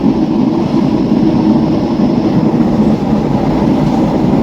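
The Gomti Sagar Express passenger train running on rails in India, a loud, steady rumble from inside the moving train with continuous low roar and faint wheel clatter, no talking.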